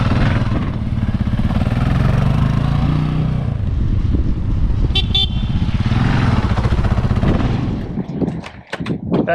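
A Kawasaki KLR 650S, the lowered version, runs close and loud with a steady rumbling engine note for most of the stretch. It then settles, breaking into a few sharp pops and bursts near the end.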